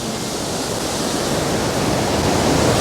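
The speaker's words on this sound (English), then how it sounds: "There's an awful lot of water going down the river today." Broad, constant roar of a swollen river rushing after days of rain on an autumn day, a dense hiss of churning water that grows slightly louder, with no voices.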